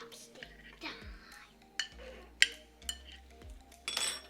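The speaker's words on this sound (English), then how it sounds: "we just mix it. With chopsticks." Chopsticks mix sauce into a plant-based sushi bowl, giving several sharp clinks and scrapes against the bowl at irregular intervals, with soft voices in the background.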